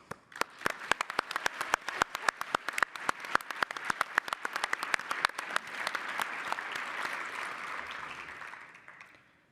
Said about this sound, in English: please take a minute to give them all applause for doing an excellent job